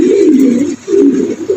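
Pigeons at a pigeon market coo loudly and close up, two deep rolling coos separated by a brief pause, then the start of a third, with nothing else heard.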